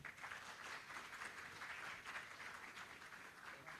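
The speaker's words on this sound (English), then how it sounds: "a round of applause for our guest speaker for today, Mr. Rex Mendoza" A corporate real-estate event audience applauding a guest speaker, a steady wash of many hands clapping, faint and distant throughout the short stretch with no voices.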